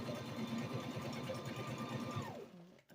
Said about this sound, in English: I'm running the sewing machine